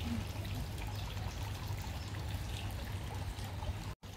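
Water trickles and splashes steadily in a small, uncleaned fountain with murky, leaf-strewn water on a seaside embankment in Gelendzhik, a continuous close pouring sound with no voices.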